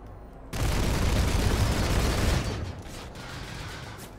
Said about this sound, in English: Who is shooting me from where?